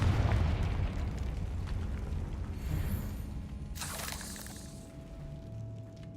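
A Confringo blasting curse explosion in Hogwarts Legacy, a burst booming at the start and fading into rumble, with a bright crackling flare near the middle amid dim ambience.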